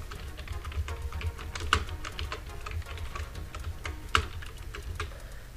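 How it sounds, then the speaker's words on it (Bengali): Steady typing on a computer keyboard while entering text in Microsoft Word 2007, a continuous patter of close key clicks with a couple of sharper, louder keystrokes. "এখন আপনার পছন্দ মতো যে কোনো একটি টেক্সট এখানে লিখে দিবেন।"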